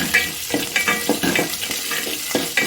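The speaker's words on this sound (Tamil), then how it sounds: "நல்லா வதக்கிக்கோங்க" Small onions and dried red chillies sauté in a pan for a kulambu, a continuous close sizzle overlaid with repeated scraping stirs of a spatula at a steady pace.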